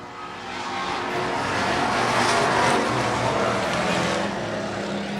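Race cars on a short oval in a Strictly Street class race, a loud continuous roar of several engines passing close by, rising to a peak and holding steady without talk.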